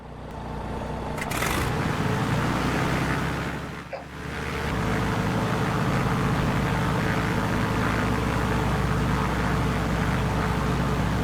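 A Beechcraft G36 Bonanza piston engine in Microsoft Flight Simulator: after a brief starter whir the propeller engine settles into a loud, steady droning rumble that dips briefly midway and then runs on evenly, with no one speaking.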